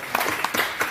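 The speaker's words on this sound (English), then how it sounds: "So yeah, a round of applause actually." Brief burst of audience applause at a Shopify meetup in Manila, a handful of distinct claps close together over roughly a second.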